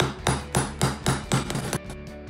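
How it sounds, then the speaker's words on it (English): A bearing seal on an Exmark mower front caster wheel is hammered in using a 32 mm socket: about six sharp, evenly spaced metallic blows ring close and loud, then fade. "So I'm going to drive this seal in here."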